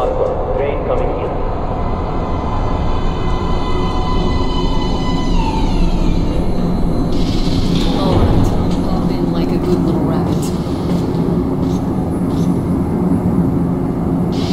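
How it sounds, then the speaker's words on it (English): A metro train pulls into an underground platform in the video game Metro Last Light, a dense, continuous rumble and screech with rising tones, while characters talk over it. "Train coming in."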